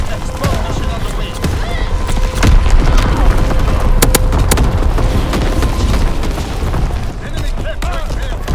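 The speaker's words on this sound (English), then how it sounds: "Incoming enemy artillery. Get to cover." Incoming artillery in a Call of Duty match, with dense, continuous booms and rumbling blasts mixed with gunfire crackle, loud and close, while radio-style voice callouts sound over the barrage.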